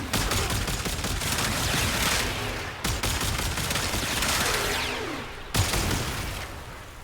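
The Grattler archgun in Warframe fires a loud, sustained barrage of heavy explosive shots, with a brief break near the three-second mark and another near five and a half seconds, and no voices.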